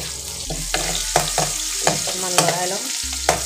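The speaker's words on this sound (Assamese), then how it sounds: "আৰু একেখিনি তেলতে মই আদা নহৰু আৰু কেঁচা জলকীয়াকেইটা দি দিছোঁ।" Ginger, garlic and green chillies fry in oil left in the pan after potatoes, a close, continuous sizzle broken by repeated scraping strokes of a stirring spoon; nobody speaks.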